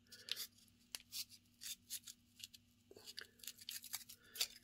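Foam board from a model F-22 foam plane being cut by hand with a blade, giving a string of short, close scraping and slicing strokes with brief pauses between them.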